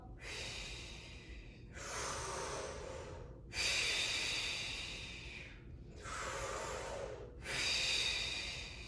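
Four long, forceful exhales during a daily breathing exercise, each a close, airy hiss lasting about two seconds, separated by brief silent pauses in a steady rhythm.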